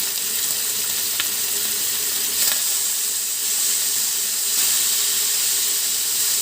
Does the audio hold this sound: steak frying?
yes